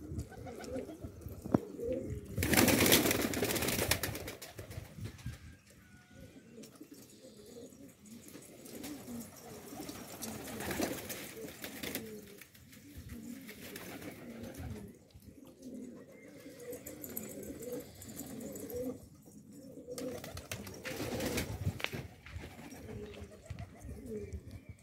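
Red silver-tail pigeons coo in soft repeated throaty calls, close by in a loft, while someone talks intermittently over them.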